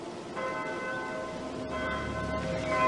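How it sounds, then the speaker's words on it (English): A church bell rings the Angelus steadily, its sustained metallic tones overlapping and ringing out continuously with no voices present. "It's just a church bell, Martin."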